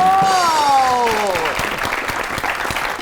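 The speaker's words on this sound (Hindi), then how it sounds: "आपकी बहुत सी तालियों में प्लीज वेलकम मोमिना इकबाल।" Audience applause swells and continues steadily as a falling musical tone fades out at the start.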